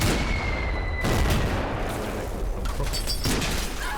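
A single gunshot from a scout team in a World War II Normandy battle strategy game, heard as a sharp report over a low rumbling background, followed by a fainter distant crack.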